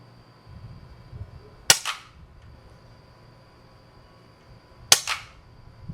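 Two sharp, faint cracks from a Super Drifter air rifle fitted with a Buck Rail suppressor, fired outdoors at night into a cardboard-and-wood target, a few seconds apart, each with a short smacking tail.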